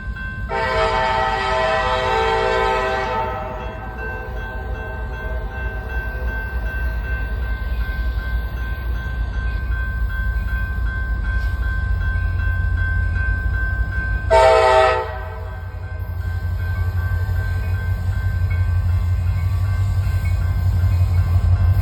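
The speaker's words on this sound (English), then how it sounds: "Oh, it's a Gevo. We got a Gevo. Two Gevos." Two GE Evolution freight locomotives pass with a loud, steady rumble, and a horn sounds in a long blast at the start, then again briefly near the middle, over the continuous engine and rail noise.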